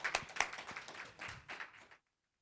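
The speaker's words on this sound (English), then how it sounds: "Please join our panel with a round of applause." A brief burst of audience applause greets a panel at a health leadership conference, with a few sharp claps standing out over a small crowd before it stops abruptly.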